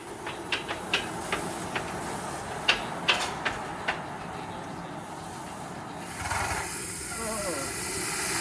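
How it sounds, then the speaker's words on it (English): A steady, loud steam hiss from oil-fired steam locomotive cylinder cocks fills the air, with a series of sharp puffs at first, then the hissing swells and carries on alone. "Those are the cylinder cocks, or the cylinder drains."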